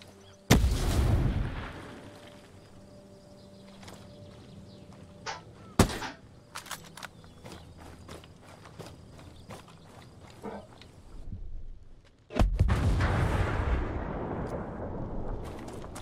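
Grenade blasts and gunfire in a video game: a heavy explosion opens the clip, sharp shots crack through the middle, and another deep, rumbling blast swells near the end, all loud and close.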